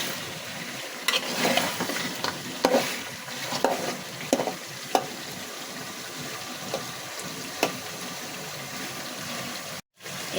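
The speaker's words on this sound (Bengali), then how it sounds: "টমেটোগুলো গলে যাওয়া পর্যন্ত এভাবে নাড়তে থাকবে।" Tomatoes stirred in a hot pan, a steady sizzle of frying under repeated scraping strokes of a spoon, close and moderately loud with no talking.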